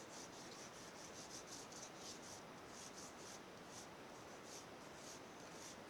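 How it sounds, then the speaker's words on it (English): Wax crayon rubbed gently back and forth over a leaf laid under paper, a soft, steady scratchy rasp with regular short strokes, quiet and close with no talking. "then I just rub like one would if brass rubbing"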